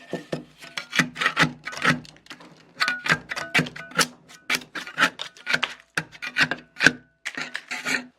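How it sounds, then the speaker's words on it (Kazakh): Old paint being scraped off a wooden sideboard, making repeated rasping strokes in an uneven rhythm, close and fairly loud, with brief pauses between scrapes. "Енді бүгін осы бетіндегі краскілерді алу жұмысын жалғастырамыз."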